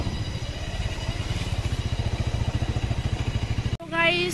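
Auto rickshaw engine chugging steadily just ahead on a rough, broken road, a dense rhythmic putter throughout that cuts off abruptly near the end into a different tonal noise.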